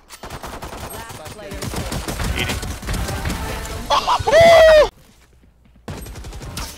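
Gunfire in the Valorant video game, rapid automatic bursts and single shots in quick succession, loud and close, followed by a brief silence and more game sound.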